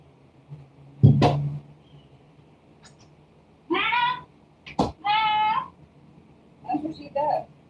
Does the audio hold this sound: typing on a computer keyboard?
no